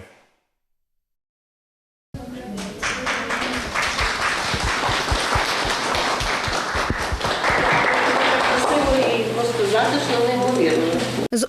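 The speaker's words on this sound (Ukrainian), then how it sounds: "оплесками в галереї європейського живопису зустрічають головну редакторку газети День Лариса Івшина" Applause greets a newspaper editor in a European painting gallery in Rivne: after two seconds of silence, a room of people claps steadily and fairly close, the clapping continuing under a faint background hum and voices toward the end.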